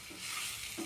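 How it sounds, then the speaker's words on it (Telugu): Sliced bitter gourd fries in a pan with a soft, steady sizzle, faint and close, with two light scrapes of stirring. "కాకరకాయ ఫ్రై అవుతుంది"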